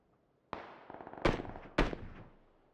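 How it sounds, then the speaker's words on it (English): Grenade blast in PUBG heard as three sharp, moderately distant bangs in quick succession, each trailing off briefly, with nothing else around them. "Yeah, I heard that nade."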